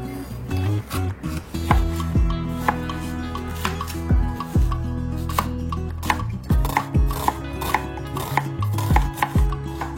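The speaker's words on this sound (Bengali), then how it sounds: "তার আগে আমি একটু পেঁয়াজ, টমেটো, রসুন এগুলো একটু কেটে নিই।" A knife chops onion, tomato and garlic on a cutting board, giving steady, close, loud thuds in an uneven rhythm that runs throughout without any talking.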